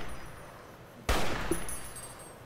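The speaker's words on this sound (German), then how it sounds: "Der erste Schuss war peinlich. Der zweite pretty okay." A single sharp gunshot in Fallout: New Vegas cracks out midway, followed by a short ringing echo over a low background hum.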